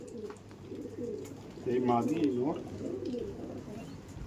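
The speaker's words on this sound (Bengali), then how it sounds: "সেটা নর্মাল কলকাতার একদমই অতি পরিচিত ম্যাড্রাস পায়রা দোবাজ" Madras pigeons, the dobaj breed kept in a Kolkata loft, coo softly in low rolling phrases, near and fairly quiet beneath someone talking over them.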